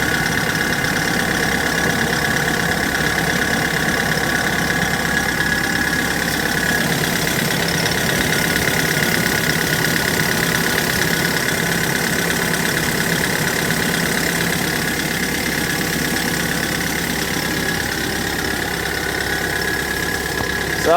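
The diesel engine of a white Kia Bongo 3 King freezer truck with manual transmission idles steadily and loudly up close, a constant low rumble with a faint knocking texture and no change in pace.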